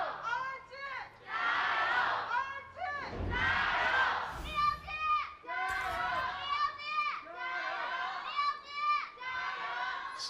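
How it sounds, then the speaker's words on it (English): An esports arena crowd at an LPL Spring Split match between RNG and BLG cheers loudly and continuously, with bursts of shouting voices layered over a dense, steady roar. "Certainly a smaller crowd for BLG, but no less passionate, matching the volume nearly for RNG"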